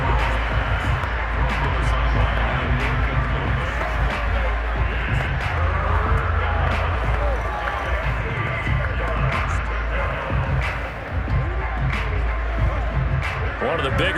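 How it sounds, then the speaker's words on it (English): Stadium crowd in Madden 22 during a 49ers versus Seahawks game, a steady dense roar of cheering fans building ahead of a big third down, with a commentator talking over the noise throughout. "The crowd getting into it as we come up on a big 3rd down"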